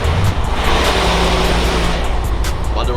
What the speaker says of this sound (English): as this truck pass